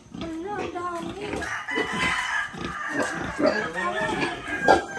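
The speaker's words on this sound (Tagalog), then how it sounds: "Yan ang inahin." A hen and chicks cluck and murmur close by in quick, uneven bursts while people talk over them.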